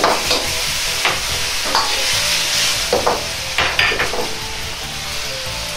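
Beef and tomato stir-fried in a pan, a steady loud sizzle throughout with repeated scraping and clinking of the utensil against the pan, no voices.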